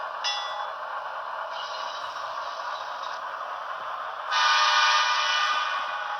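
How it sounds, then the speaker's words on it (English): Horn of a Broadway Limited Paragon 2 BNSF AC6000 model locomotive: a loud, sustained electronic multi-tone horn blast that swells louder near the end, with no talk over it. "A very loud horn."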